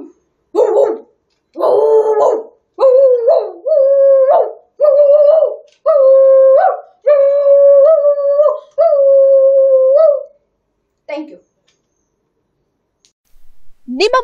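A schoolboy imitates a big adult dog, giving a run of about eight loud, close, drawn-out barks and howls with short gaps between them, then a couple of fainter yelps.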